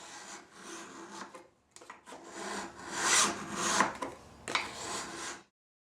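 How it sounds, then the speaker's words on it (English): A steel card scraper is drawn along a file clamped in a vise, giving a series of rasping, scraping strokes of varying length with short pauses, close and fairly loud, ending abruptly. "place the file or honing stick in a vise, and use the top of the workbench as a guide"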